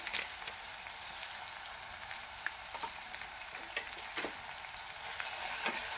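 Roasted masala spices with black masala and coriander powder fry in a pan, giving a dense, steady sizzle with soft scrapes and taps of stirring, close and without voices.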